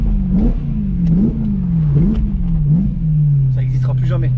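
A BMW M3 E92 V8 engine revs repeatedly while driving, rising and falling in a steady, close, loud drone with small accelerations, settling into a steady cruise near the end, and a voice talks over it.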